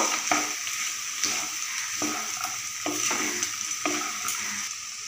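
Khero curry stir-fried with fried lentil bori and grated coconut, a steady hiss of sizzling beneath rhythmic scraping strokes of a spatula about once a second, close up with no speech.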